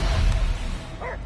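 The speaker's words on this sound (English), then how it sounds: "I hear only barking" A dog barks once from somewhere enclosed, muffled and brief beneath a rumbling background wash.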